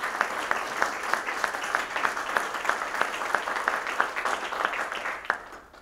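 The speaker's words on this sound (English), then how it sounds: "give them a round of applause for their volunteer" A crowd at a Rotary Club installation claps steadily in applause, with individual sharp claps standing out in a regular rhythm before fading at the end.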